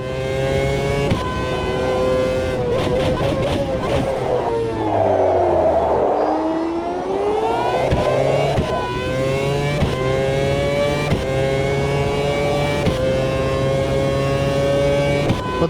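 A Formula 1 race car engine in a video game simulator screams at high revs, its pitch climbing through gear changes, dipping mid-run and then building again into a sustained, close whine.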